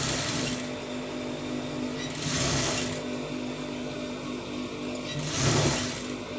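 An electric sewing machine stitching a round neckline, a steady close mechanical whir with two louder bursts of faster running.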